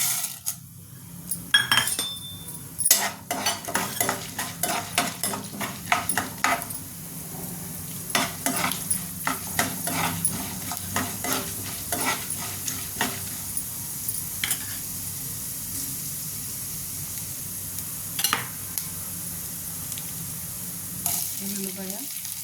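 Mustard seeds, cumin, urad dal and chana dal crackle and pop in hot oil for an Andhra-style tempering, with sharp irregular spatters over a low sizzle and occasional utensil clinks.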